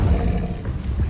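An Incendio fire spell cast in Hogwarts Legacy, a brief, heavy whooshing rumble of flame with a deep roar, loud and close.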